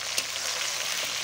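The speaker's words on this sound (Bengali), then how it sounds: "ওই তেলে দিয়ে দিচ্ছি আমি টমেটো কুচি, দিয়ে ভালো করে খুন্তি দিয়ে নেড়ে চেড়ে" Chopped tomato dropped into hot oil with dried chillies, sizzling steadily with a brief stir of a metal spatula, close and fairly loud, no voices.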